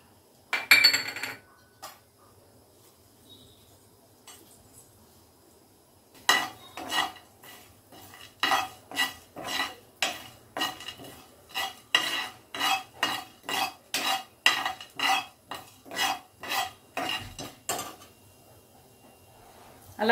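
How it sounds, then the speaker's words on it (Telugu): Whole spices, dried red chili, cumin, coriander seeds, cinnamon, cloves and cardamom, are dry-roasted in a pan while a spoon scrapes and stirs them in a steady run of rhythmic strokes, after a few metallic clinks at the start. "ఎండుమిరపకాయ వేసుకోవాలి. తర్వాత జీలకర్ర, ధనియాలు, దాల్చిన చెక్క, లవంగాలు, యాలకులు ఇవన్నీ కొంచెం వేపుకోవాలి."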